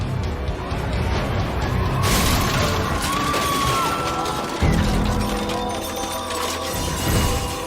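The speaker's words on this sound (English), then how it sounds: "Shards of glass rain onto the street." A scaffold slammed by a 50 mph gust into the side of a building, with glass shattering onto the street below: a loud, sustained crashing roar with sharp breaking bursts near the middle.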